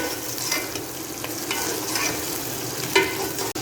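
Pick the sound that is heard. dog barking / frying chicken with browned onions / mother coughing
frying chicken with browned onions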